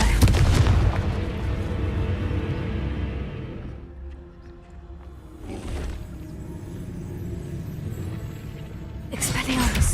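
Confringo and Bombarda spell explosions in Hogwarts Legacy go off as booming blasts with whooshing bursts, loud at the start and again in separate hits later, over ongoing game noise and a voice.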